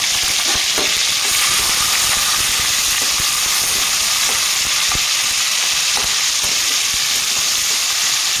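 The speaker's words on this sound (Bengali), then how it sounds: "পেঁয়াজটা একটু হালকা ভাজা করে নেব" Loud, close sizzling of chopped onions frying lightly in oil with whole cumin, a dense continuous hiss broken by small stirring clicks and taps.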